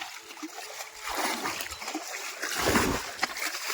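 Water being bailed by hand out of a shallow village pond to catch fish, repeated close splashes and sloshing scoops over a running trickle.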